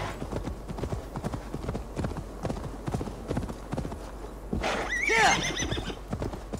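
In the video game Assassin's Creed Valhalla, a horse's hooves clop in a steady, quick rhythm close by, then the horse gives one loud, rising neigh near the end.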